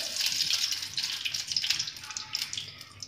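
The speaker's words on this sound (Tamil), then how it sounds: "தேங்காய் எண்ணெய் பார்த்தீங்கன்னா ஒரு 200 ml. ஸோ அதை ஊற்றிடலாம்." Liquid pours and splashes in a continuous, uneven trickle, with bright bursts as coconut oil is tipped into water in a pan while homemade hair oil is being prepared.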